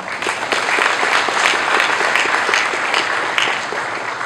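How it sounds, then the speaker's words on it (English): Office audience at an AIG workplace event in Kuala Lumpur, Cyberjaya, breaking into sustained applause, a dense steady patter of many hands clapping at even loudness throughout, fairly close. "Give yourselves a round of applause."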